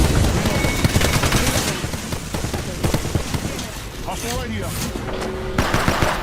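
Rapid automatic gunfire from the Apex Legends battle royale game, dense overlapping bursts and shots running continuously alongside other game effects, loud and close throughout.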